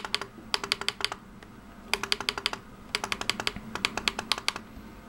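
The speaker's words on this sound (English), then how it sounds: "You can hear all the little clicking of my laptop button" Small laptop button clicks come in quick bursts of several taps separated by short pauses, crisp and close, with no talk.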